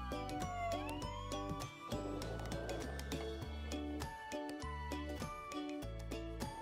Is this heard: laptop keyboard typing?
no